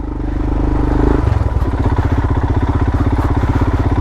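A motorcycle engine runs loud and close, a steady throb that shifts into a faster, choppier pulsing rhythm partway through, with no talk over it.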